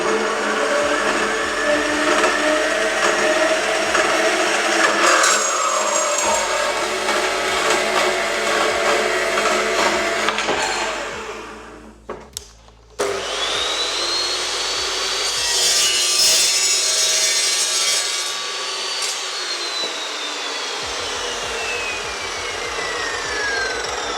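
Evolution CPS 355 metal chop saw cutting steel stock on a weld table, a loud continuous grinding whine that drops off briefly midway, then resumes with rising high-pitched screech until the blade spins down.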